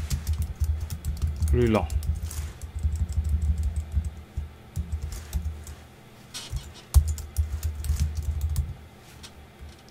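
Typing on a computer keyboard produces a run of quick key clicks under someone speaking French, with a few louder taps and pauses in between.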